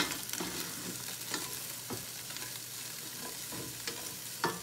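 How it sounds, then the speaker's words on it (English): Meat frying in oil in a pan being stirred for a spaghetti dish, a continuous close sizzle broken by repeated scraping strokes of the spoon at an uneven rhythm. "Stir it around."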